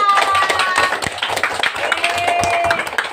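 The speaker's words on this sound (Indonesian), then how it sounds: "tepuk tangan kita semua" Classroom of students clapping together on cue before a Pancasila lesson, a quick run of close, uneven claps with voices and chatter mixed in.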